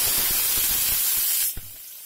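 Chopped onions hit hot oil with cinnamon and cloves inside a pressure cooker, giving a loud, steady spraying sizzle that drops off sharply near the end, with a soft knock just after.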